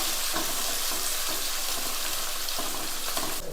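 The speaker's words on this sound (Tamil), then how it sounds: "சேர்த்துட்டு இதையும் நல்லா வதக்கிக்குவோம்." Loud, continuous sizzling of tomato sautéing in a pan, with occasional stirring scrapes and a faint patter of water.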